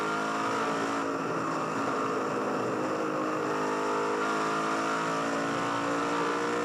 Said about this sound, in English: It's got a broken header, or she sounds like an old tractor.